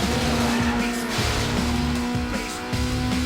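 Honda Civic tires squealing in the video game Need for Speed Underground, a loud continuous skid screech held over steady engine drone with a few rhythmic dips, no talk.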